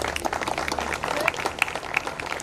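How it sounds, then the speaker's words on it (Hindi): An audience at a medical college farewell party breaks into applause: a dense, crackling patter of many hands clapping at once, steady and fairly loud across the whole stretch. "तालियों की कमी ना होने दीजिए"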